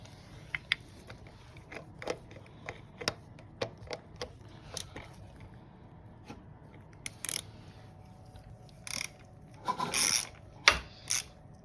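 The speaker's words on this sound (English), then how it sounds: "you got the crank gear that we're spinning here, and you could use an Allen" Honda CRF250 crank gear, 2010 model, being turned by hand with an Allen wrench, giving a run of dry ratcheting clicks and light mechanical ticks, close and quiet, with a denser cluster of clicks near the end.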